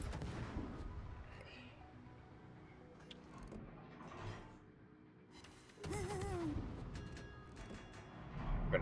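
Naval guns fire in a warship battle game as a series of faint, distant thumping reports. A louder cluster of shots lands past the midpoint, with mechanical whirring and tonal game sounds in the background.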